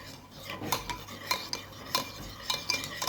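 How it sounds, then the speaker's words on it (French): Yeast being stirred with warm water and honey in a bowl, a utensil scraping and clinking against the sides in quick repeated strokes, close and clear. "tu vas prendre un sachet de levure, tu vas mélanger avec l'eau chaude et le miel"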